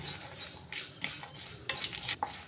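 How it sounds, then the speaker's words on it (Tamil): Spice powder for mutton dum biryani frying and being stirred in a pan, with a low steady sizzle broken by intermittent scraping strokes of a spoon against the metal, close by with no talking. "இப்போது இதை நல்லா ஃப்ரை பண்ணி விட்டுக்கலாம்"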